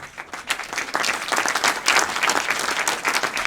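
A keynote audience at a company event applauds; scattered claps build quickly into full, sustained clapping from a sizeable crowd, continuing to the end.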